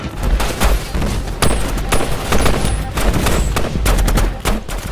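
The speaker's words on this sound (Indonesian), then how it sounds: "Musuh pun menembakkan bazooka ke segala arah secara beruntun." Dense, continuous gunfire and heavy blasts from a war film firefight as enemies fire bazookas, with rapid overlapping shots and booms filling the whole stretch loudly and without pause.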